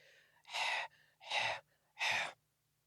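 Three forceful breathy exhales spaced about evenly apart, a voice imitating panting to demonstrate the Arabic letter haa (ح), close and distinct with brief silences between.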